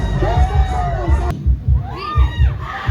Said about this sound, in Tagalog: sigawan po tayo pagkatapos ng music